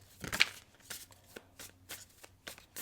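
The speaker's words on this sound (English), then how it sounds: "So let me just get these shuffled up really good." Tarot cards being shuffled in several quick riffling bursts, soft and close, with short pauses between them.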